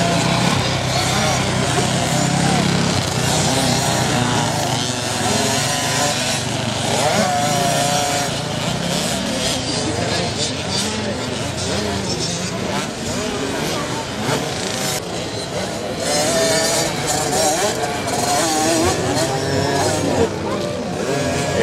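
Young riders on 65cc motocross bikes during a kids' demonstration at a motocross event, engines revving and buzzing continuously at mid distance, rising and falling as the bikes pass, with an announcer talking over the noise.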